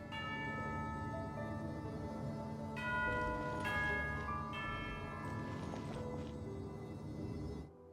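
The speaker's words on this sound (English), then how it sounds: "You hear the sound of a bell." A bell rings in the Genshin Impact video game, with tonal strikes that sound out clearly over steady ambient game music, fairly loud and sustained, then cut off abruptly near the end.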